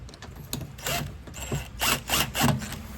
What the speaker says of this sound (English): I'm going to go ahead and run these machine screws back in